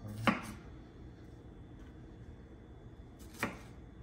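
A knife slices fresh strawberries on a cutting board for strawberry lemonade, giving two quiet, crisp cuts about three seconds apart over a soft, steady room hush.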